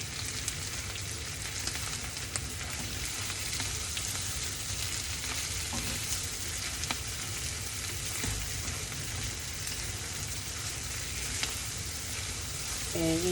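Spinach frying in a pan, stirred steadily for a birthday home-cooking meal, with a constant close sizzle and occasional soft scrapes of the utensil running throughout, no talk.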